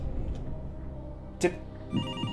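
A telephone rings in a football manager video game, a short ring burst standing out over a low background hum, with another faint ring following soon after.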